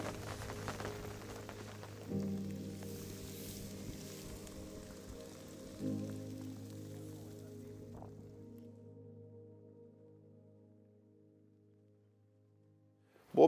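Rain falls at night over a carp fishing camp by the water, a soft steady patter with a low hum beneath it, fading gradually to near quiet.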